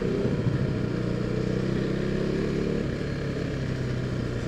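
A KTM RC 390 motorcycle rides through city traffic, its engine a steady, close drone that holds at an even level throughout, with no voices.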